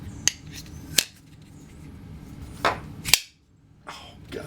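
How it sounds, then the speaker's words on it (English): A Cold Steel Recon 1 folding knife in CTS-XHP steel flicked open, its lock snapping with sharp, close clicks, four crisp snaps spaced apart in a quiet room. "I don't know if I can even flick this open in front of the camera, but oh, I guess I can."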